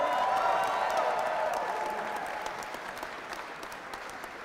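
A crowd applauds the mayor-elect's family at Shelby County Mayor-Elect Lee Harris's speech, steady dense clapping that slowly fades over a few seconds.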